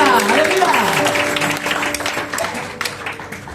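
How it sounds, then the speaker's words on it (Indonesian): Church congregation applauding at an Easter service, a short burst of dense clapping that fades over a few seconds while a speaker's voice continues over it. "Sekali lagi berikan tepuk tangan buat Tuhan kita."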